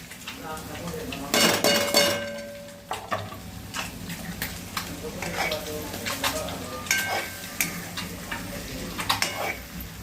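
Kitchen King masala and other spices fry and sizzle in a pan for egg biryani while a spoon stirs them, scraping and clinking against the metal in close, irregular strokes over a steady hiss.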